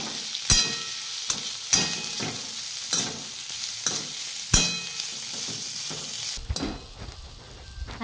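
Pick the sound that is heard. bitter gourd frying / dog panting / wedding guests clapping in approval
bitter gourd frying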